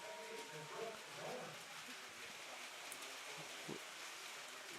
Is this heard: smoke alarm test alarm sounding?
no